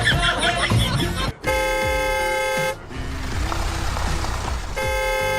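A car horn honks in long sustained blasts, loud and close, with short breaks between them, set in a domestic comedy scene with background sound under it.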